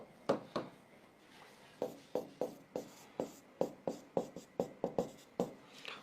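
Chalk or marker writing on a board during a chemistry lecture: a run of quick, close tapping strokes in irregular rhythm, fairly quiet, with no speech over it.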